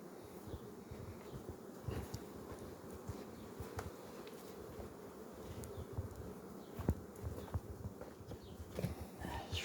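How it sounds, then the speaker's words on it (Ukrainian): Honeybees of the Ukrainian steppe breed busy at the hive in the morning during a lime and wildflower honey flow, a dense continuous faint buzzing with scattered louder passes, no talk. "бджолки працюють 8 година ранку, а вони вже працюють"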